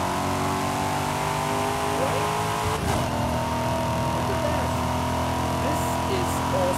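A race car engine in a racing video game on Xbox Series S drones steadily and loud, shifting pitch as it revs, with a brief burst partway through.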